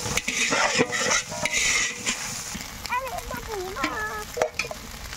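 Four eggs fry in a hot pan while being stirred, a loud close sizzle with a utensil scraping and clinking against the metal, and faint tonal sounds in the background.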